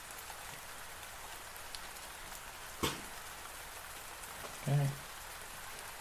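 Torrential rain pours in a cemetery as an audio drama effect, a steady hissing downpour with a brief sharp tap partway through and a short spoken word near the end.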